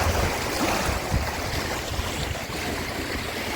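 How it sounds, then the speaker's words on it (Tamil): Water gushes out with great force, a loud rushing, churning torrent that surges unbroken throughout, close to the listener and free of voices. "தண்ணி தெரிக்குது பாருங்க, வர்ற ஃபோர்ஸுக்கு"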